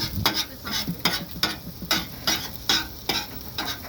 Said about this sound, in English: Eggs cooking up good.